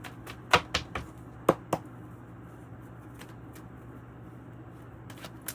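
A deck of 108 Oracle cards is shuffled in a few quick, soft riffling bursts early on, then only faint room quiet with a couple of light taps near the end.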